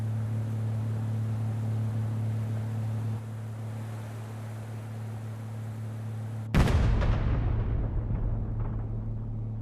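A steady low engine hum drones for several seconds, then a sudden loud blast erupts and rumbles away, followed by scattered debris-like crackle as it fades.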